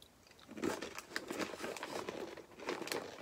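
Close, crunchy chewing of corn nuts with repeated crisp bites and grinding, fairly quiet and unaccompanied by talk.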